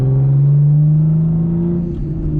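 A Lexus IS300 engine is revved and the clutch dumped, then slowly ridden out: a loud, close, steady engine drone holds, pitch rising slightly as the car pulls away smoothly.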